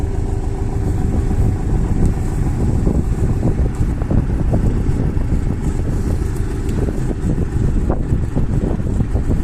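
A Porsche Boxster 718 S engine drones steadily nearby with wind buffeting the microphone, a continuous rough rumble without speech.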